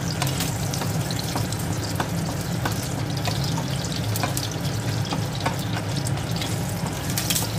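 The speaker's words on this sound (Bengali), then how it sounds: "এবার এই সমস্ত জিনিসটা একটু ভালোভাবে এতে তেলেতে নেড়ে চেড়ে ভেজে নেব।" Bay leaf, dry red chillies, cardamom pods and cinnamon fry in white oil, giving a continuous close sizzle with scattered crackles and ticks from stirring, and no talk.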